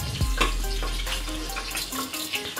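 Cumin seeds and red chili powder fry in a mix of butter and oil for pav bhaji, giving a close, steady sizzle with faint scraping and utensil clinks throughout.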